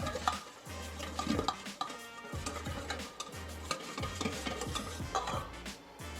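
A whisk beats a salad dressing in a bowl for a honey Thai spinach and pork salad, steady rhythmic strokes with light clinks of metal against the bowl, close and moderately loud, with no talking.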